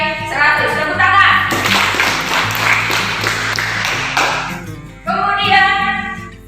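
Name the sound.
applause from a class of students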